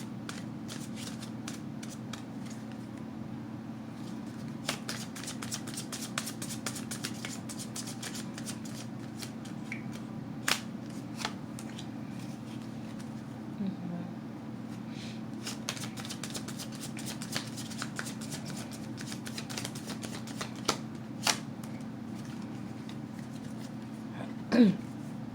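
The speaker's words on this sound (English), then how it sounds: "Let me get a couple more cards." Tarot cards shuffled by hand in a steady, continuous riffling shuffle with a few sharper snaps and taps, close and fairly quiet over a low steady room hum, with no talking.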